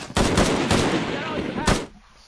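Rapid gunfire bursts in the Shadow of the Tomb Raider video game, loud and close, with a second short burst near the end before a quieter tail.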